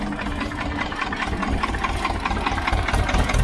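An old tractor engine, a 335 model in Uttar Pradesh, idles close by with a steady, rough, pulsing chug that slowly grows a little louder, with no voices over it.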